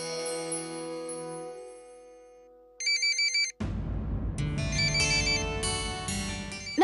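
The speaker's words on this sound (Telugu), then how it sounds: "నా ఫోన్ రింగ్ అవుతుంది." A mobile phone ringtone in a Telugu TV serial home scene sounds as short, bright, repeating electronic bursts, then gives way to a fuller, busier melodic ring that carries on loudly to the end, with no talking.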